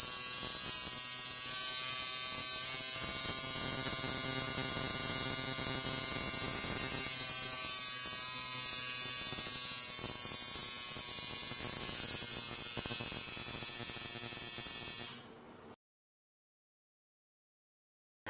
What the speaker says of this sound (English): you'll be able to actually hear the machine speed up and slow down as we turn the screw.